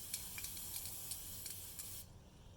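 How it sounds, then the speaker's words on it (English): A cooking spray hisses in a few quick bursts for about two seconds, close and fairly quiet, then stops. "So we're just going to use a little spray"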